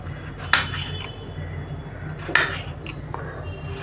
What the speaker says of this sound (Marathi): असे सर्व टमाटर मी आता फोडी करून घेते